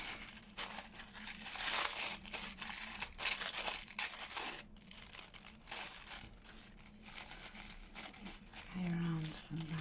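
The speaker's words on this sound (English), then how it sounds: "Let me just rip a square out." Paper being ripped to tear a square piece out, a steady run of crinkling and tearing sounds close by, continuing for several seconds.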